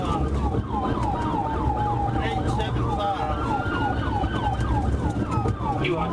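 A police car siren wails in rapid rising and falling sweeps during a pursuit on a state road, loud and continuous over road and engine noise.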